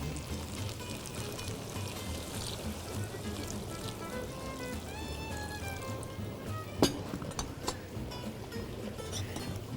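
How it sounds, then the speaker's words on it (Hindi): Water pours into a pot of pulao, a steady close liquid rush and gurgle with a sudden metallic clink near the end. "और अब जाएगा पानी।"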